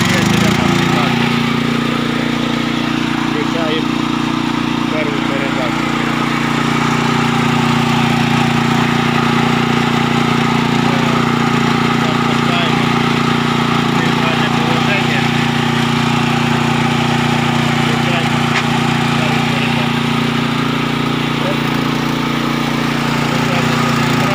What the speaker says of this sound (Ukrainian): а фреза буде включена на коробці на первій передачі